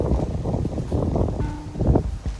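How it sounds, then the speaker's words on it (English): Strong wind buffets the microphone in rough, low gusts at an outdoor skate park, rumbling continuously with no one speaking. "It's a little windy, guys. Sorry if the audio's a little off"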